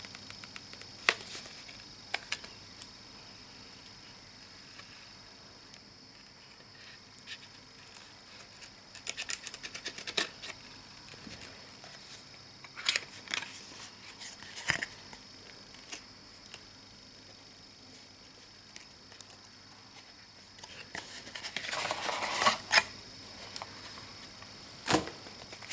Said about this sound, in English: I almost feel sad breaking the seal